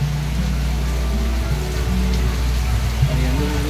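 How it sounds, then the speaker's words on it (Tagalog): Rain falls steadily on a night outing at a Marikina village resort, making a continuous dense hiss with a low background hum and faint voices in the distance. "umuulan pa ngayon, hanggang ngayon"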